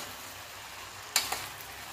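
Vegetables for pav bhaji being stirred in oil in a pan: a faint, steady sizzle with a couple of brief scraping clatters of the spoon partway through, no voices.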